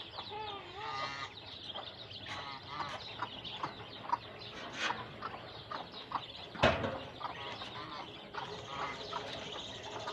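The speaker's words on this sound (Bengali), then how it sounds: "এই তো এটা হলো চীন হাঁস" Chinese geese and ducks calling together in a close, busy flock, with steady overlapping honks and quacks and one sharper loud burst partway through; no one talks.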